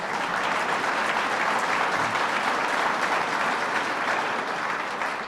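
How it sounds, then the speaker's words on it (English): Steady, dense audience applause fills a ceremony unveiling a former New York governor's official portrait, loud and continuous throughout with no talking over it. "Let's give Peter a round of applause."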